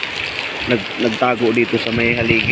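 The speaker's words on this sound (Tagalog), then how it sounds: "sobrang lakas ng ulan" Heavy rain pours with a constant hiss while someone speaks over it nearby.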